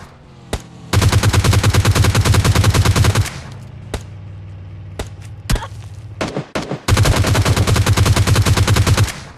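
Rapid automatic gunfire rattles in two long, loud bursts during a PUBG Mobile Lite firefight, with scattered single shots and thuds between them.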